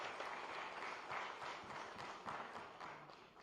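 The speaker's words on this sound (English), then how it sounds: "Please welcome sir with a round of applause." An audience at a corporate event in Gandhinagar, India, gives a welcoming round of applause for a keynote speaker, a fairly soft, even patter of clapping from a distance that runs continuously throughout.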